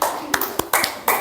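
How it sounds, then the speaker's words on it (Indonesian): A classroom group hands out applause for a student presentation: a few sharp, scattered claps, close and uneven, rather than a sustained ovation, with a voice audible alongside. "silakan berikan tepuk tangan yang meriah untuk kelompok 3"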